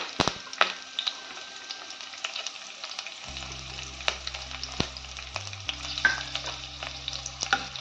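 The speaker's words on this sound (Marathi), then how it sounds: "कढीपत्ता आणि मिरची थोडीशी भाजून घ्यायची" Crushed garlic, green chilies and curry leaves fry in hot oil, a low crackling sizzle with scattered spatters and stirring clicks, joined midway by a steady low hum.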